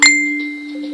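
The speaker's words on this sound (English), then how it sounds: "If you hear that thing going off, that's just my message or notification." A phone's message notification chimes once, a bright tonal ding with a steady ringing tone that sustains through the moment, close and clear, with no voices over it.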